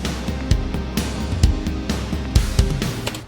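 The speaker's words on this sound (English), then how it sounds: "the original kick sounds like this" An original kick drum in a music production mix thumps at a regular rhythm, punchy and up front, alongside other drums and instruments in the mix, with no talking.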